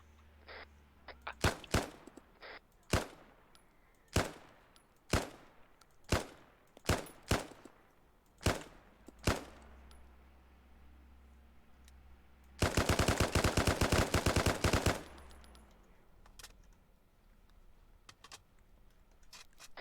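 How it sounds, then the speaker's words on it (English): Gunshots in the military game Arma 3, with about a dozen sharp single reports spaced roughly a second apart, then a rapid automatic burst lasting about two seconds, followed by quiet. "Am I hearing distant shots?"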